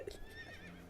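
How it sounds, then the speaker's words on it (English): A horse whinnies in the video game Fantasy Life, a short, fairly faint neigh with no talk over it. "There's my horse."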